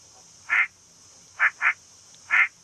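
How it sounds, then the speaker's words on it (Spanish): Ducks quacking alone in a quiet setting, four short quacks, one early and then three close together later, two of them in quick succession, against a faint steady hiss. "Un día Félix estaba observando a unos patos"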